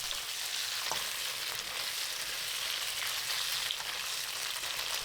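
Tofu cubes frying with garlic and ginger in a pan for a Chinese home stir-fry: a steady, close, even sizzle that holds throughout with no voices.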